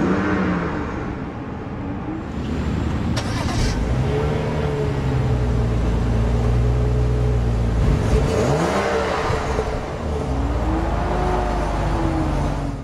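A 2011 BMW 535i M Sport with push-button ignition starts up, then its engine runs close by, rising and falling through a couple of smooth revs over a steady idle drone.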